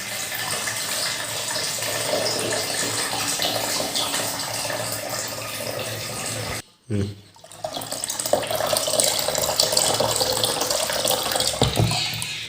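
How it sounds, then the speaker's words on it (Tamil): Water pours steadily into a container in a continuous splashing gush. It breaks off briefly partway through and then runs again, filling up a school student's homemade oxygen-generating device. "தண்ணி ஊற்றியாச்சு"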